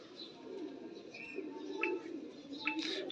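A white Nil Dumba pigeon of a large-boned show type coos in soft, low, continuous murmurs. A few faint higher chirps come from nearby birds against a quiet, steady background.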